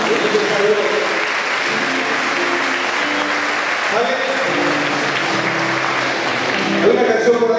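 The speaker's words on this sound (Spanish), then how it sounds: "Le damos un aplauso a los matrimonios también." A crowd at a concert in Veracruz claps steadily and loudly throughout, a dense wash of applause with voices mixed in underneath.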